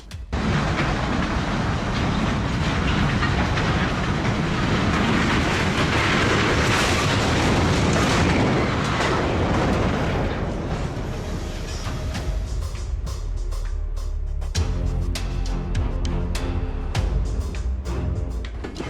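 Train derailment crash: a loud, sustained roar of heavy rail cars grinding and crashing, dense and continuous, then thinning into scattered clanks, rattles and metallic impacts toward the end.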